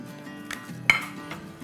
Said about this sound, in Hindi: चलें जी, हम इसको मिक्स करते हैं।